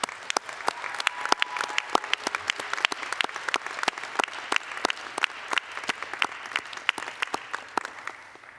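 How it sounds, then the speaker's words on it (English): Sparse, distinct claps from a small audience at a university convocation ring out steadily and fairly faintly, with individual hand claps clearly separated in a regular patter. "let's give everybody a round of applause to begin with, especially our students"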